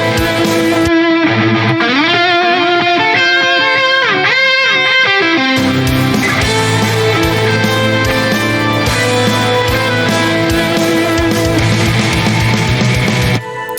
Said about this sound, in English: And then I double it with the guitar here.